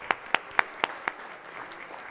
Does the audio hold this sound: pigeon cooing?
no